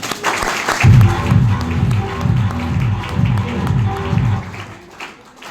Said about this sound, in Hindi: मैं चाहूंगा अब तक की सबसे दिलदार वाली तालियां होना चाहिए।